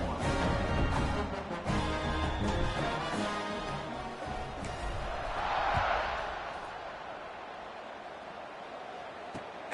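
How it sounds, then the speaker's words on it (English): Stadium crowd roaring at a Wisconsin college football game around a kickoff, a broad sustained din that swells and then settles under an announcer's play-by-play. "this crowd now ready to get behind them"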